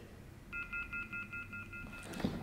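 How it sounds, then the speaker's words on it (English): An electronic device in a Freemasons Grand Lodge basement sounds a steady tone for about a second and a half, pulsing in a regular rhythm like a phone dial tone, fairly faint, with no talking. "you can make that weird dial tone noise"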